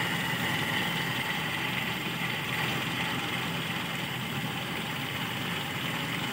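A Toyota Kijang Super engine idles steadily during carburetor tuning, a continuous even hum with no clear rev changes.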